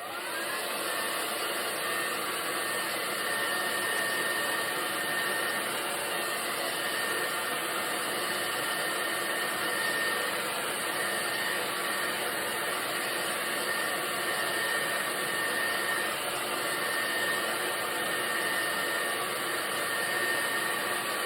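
A hair dryer blows steadily on a watercolor painting of a mailbox, a loud, continuous whir with a broad airy hiss that holds unchanged for the whole stretch, with no voices.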